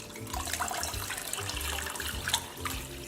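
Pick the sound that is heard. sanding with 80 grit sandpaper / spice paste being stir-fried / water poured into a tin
water poured into a tin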